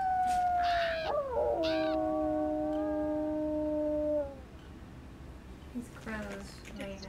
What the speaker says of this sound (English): Bunch of coyotes.